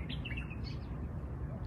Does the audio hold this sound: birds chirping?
yes